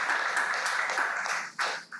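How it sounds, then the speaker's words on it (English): Brief audience applause after a youth debating competition quarter-final, a short burst of clapping that fades out toward the end. "Let's give a round of applause for all our debaters."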